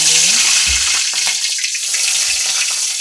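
Curry leaves hit hot oil in a pan and set off a loud, continuous hiss of sizzling and spattering, with a few low clunks of utensils beneath it.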